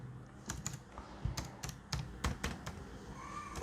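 Keystrokes clatter on a computer keyboard in short irregular bursts, close and fairly quiet, with brief pauses between runs of taps while someone types out Linux directory names.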